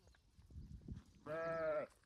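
A goat gives one short, clear bleat near the end, after a stretch of faint low rustling and quiet background noise.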